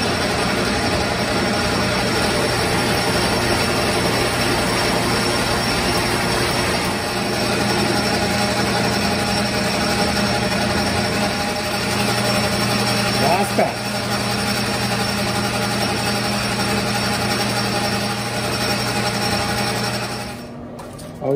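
Metal lathe turning a steel part for a screw jack down to a one-inch diameter over a 1 5/8 inch length, a steady continuous machine hum with tonal whine running throughout, then tapering off near the end.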